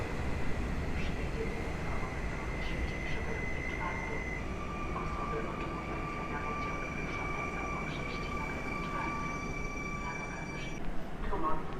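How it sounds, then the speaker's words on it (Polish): A Koleje Mazowieckie airport train pulls into a platform at Warszawa Wschodnia station with a steady rolling rumble and long, high squealing tones, heard from the platform amid station noise. "Na tor pierwszy przy peronie czwartym wjeżdża pociąg lotniskowy kolei mazowiecki"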